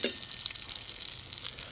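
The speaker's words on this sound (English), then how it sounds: "we're going to baste that a little bit right in the pan" A duck breast sizzles steadily in a hot pan while being basted, a close, continuous crackling hiss with small spattering pops throughout.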